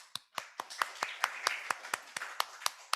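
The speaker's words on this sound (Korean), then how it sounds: "박수 쳐주세요." A church youth-service congregation claps in a loose, fairly steady rhythm, about a dozen distinct claps over a few seconds, moderately close and clear with a faint murmur behind.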